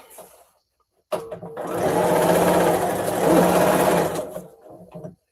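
A sewing machine stitches quilt scraps onto paper foundation with a quarter-inch seam, running as a steady, close whirring hum for about four seconds after a brief pause, then stopping.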